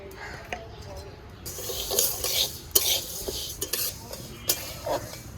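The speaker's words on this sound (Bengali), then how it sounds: "খালি কড়াইতে ডালটা ভেজে নিচ্ছি একটু।" Mung dal dry roasting in an empty wok, stirred with a utensil, giving gritty scraping and rattling strokes that come in uneven bursts, close and moderately loud.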